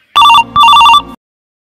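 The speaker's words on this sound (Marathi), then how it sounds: "शेवटचा लावतो एकदा फोन परत बघतो लागू चला" A phone rings on an outgoing call: two loud, close electronic trilling bursts, each lasting about half a second and separated by a short gap, then silence.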